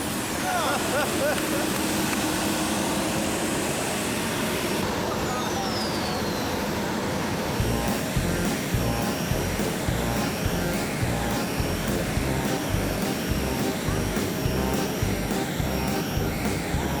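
A powerful vacuum cleaner roars continuously, loud and close, its pitch shifting slightly as it runs, with a jet-like whine.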